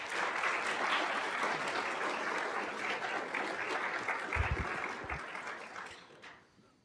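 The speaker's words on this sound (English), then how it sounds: "Let's take time to give them a round of applause for all the support they've given you." Students and guests at a 2024 NTHS induction ceremony applaud, a broad sustained wash of clapping that holds steady for several seconds and then dies away.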